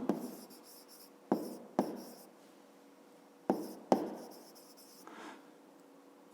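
Pen writing out a fifth-grade maths exercise by hand, several bursts of quick scratching strokes close up, each ending with a sharp tap as the pen lands, quiet between strokes.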